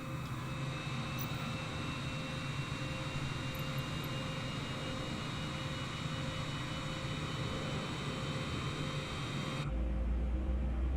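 Steady, loud roar of a Boeing 787-9 jet engine spooling up during start in Microsoft Flight Simulator, a continuous broadband hum with tonal whine that holds throughout and swells slightly near the end.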